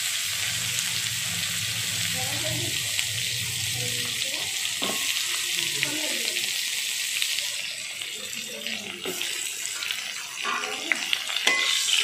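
Strips of bitter gourd are stirred in hot oil in a wok with cumin seeds and dried red chilies, giving a steady close sizzle broken by scraping stirs and occasional spatula knocks.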